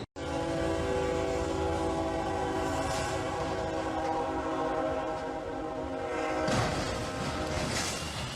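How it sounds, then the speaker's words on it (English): A freight train sounds its horn with a sustained, loud tonal blast as it crashes through a truck hauling a large wind turbine at a crossing, with rumbling rail noise and a burst of impact near the end. "The freight train crashed right through the train's bed, which appeared to be hauling a big, huge wind turbine"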